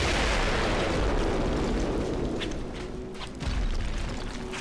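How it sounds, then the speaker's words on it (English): A loud, sustained explosion booms in the video game Hellboy: The Science of Evil, a heavy broadband roar that slowly decays, then a second blast flares up toward the end. "These very loud explosions can actually hurt you"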